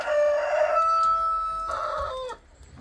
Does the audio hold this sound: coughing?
no